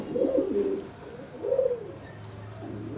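Fancy homer and Giribaz pigeons coo close by in soft, rolling phrases, two clear bursts with a quieter third trailing off, over a faint background hum.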